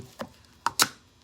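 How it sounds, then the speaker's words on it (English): Needle nose pliers pry open a can of glass bead gel, giving three short, sharp metallic clicks and pops, the last two close together and loudest, with quiet between. "And then I can take the plier and pop open the can."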